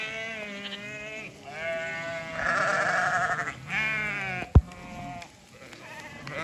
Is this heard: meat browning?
no